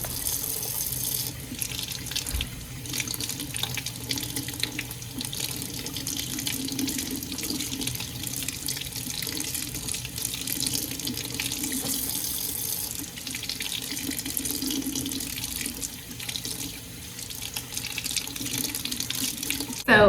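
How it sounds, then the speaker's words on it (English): Garden-fresh potatoes being washed in a kitchen sink under a running faucet, a steady close stream of splashing water lasting the whole stretch with slight shifts as the potatoes are handled, no talking. "throw all these in the sink and wash them"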